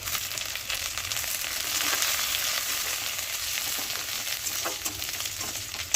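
Dried red chillies frying in hot oil, a dense continuous sizzle heard up close and alone, steady throughout with faint stirring.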